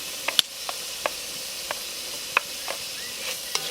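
Onion hitting a pan of beef adobo over an open campfire, with a low steady sizzle broken by a handful of sharp crackles and pops, close by and with no talking.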